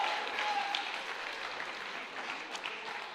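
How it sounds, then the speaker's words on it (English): An audience applauds stage magicians at a live magic show, a short burst of steady mid-sized clapping that fades slightly toward the end. "give them a huge round of applause"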